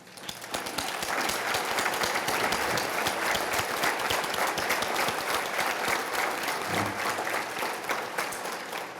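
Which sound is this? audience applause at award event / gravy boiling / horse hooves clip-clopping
audience applause at award event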